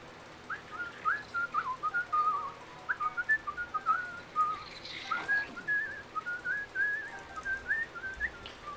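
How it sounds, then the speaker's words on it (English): A person whistling a wandering melody of short and drawn-out notes, soft and close, with no talking. "Don't start whistling."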